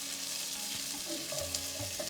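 Onions and garlic frying in a pan, a steady close sizzle with soft crackles and faint stirring scrapes, no voices.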